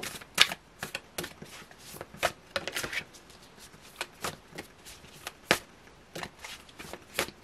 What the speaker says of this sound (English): These cards are hard to shuffle. They're so big.